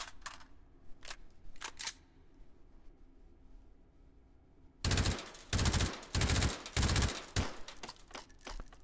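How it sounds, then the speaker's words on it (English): Suppressed AAC Honey Badger rifle firing subsonic 300 Blackout in a VR shooting game: a few scattered muted shots, a quiet pause, then loud rapid bursts of automatic fire in quick succession. "you can fire 300 Blackout suppressed because that is a subsonic round"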